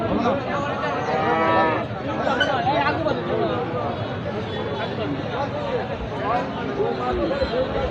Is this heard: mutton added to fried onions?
no